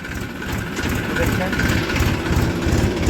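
Tractor engine running in a field while the driver shifts up into third gear: a steady, loud, close diesel rumble with constant vibration and no pauses.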